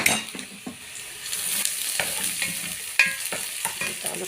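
Garlic cloves sizzle in a hot pan while a spoon scrapes and stirs them in repeated sharp strokes, cooking the base for a green fava bean dish.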